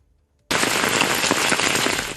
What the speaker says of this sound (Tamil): 1 மணி நேரத்திற்கு மேலாக இடி மின்னலுடன் மழை கொட்டித் தீர்த்தது.